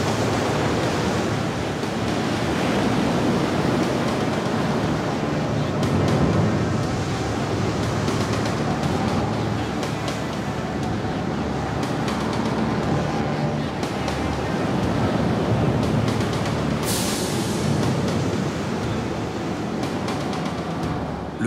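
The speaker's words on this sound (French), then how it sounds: "le vent trouve au Shetland un allié redoutable, les vagues." Heavy storm surf roars continuously against cliffs in the Shetland Islands, Scotland, a dense wash of crashing waves mixed with gusting gale-force wind, loud and unbroken throughout.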